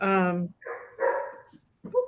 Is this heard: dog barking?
yes